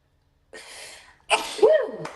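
A single loud sneeze, close by, preceded by a breathy intake and ending with a short voiced trailing sound.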